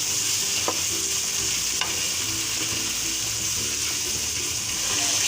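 Chana dal stir-fries in spices in a pan for a lauki chana dal, giving a steady, loud sizzle with faint scrapes of stirring.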